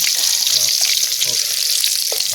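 Silver carp pieces frying in hot oil, a dense, loud, continuous sizzle close up with faint stirring noises underneath.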